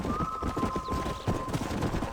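Horse hooves clip-clop at a steady trot in Red Dead Redemption, a continuous rhythmic patter up close, with a faint tonal hum running underneath.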